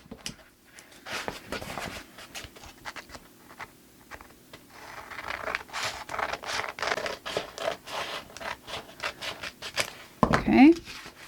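Scissors cut through the paper flap of a handmade concertina, giving a run of crisp, close snipping and scraping strokes that grow louder toward the end.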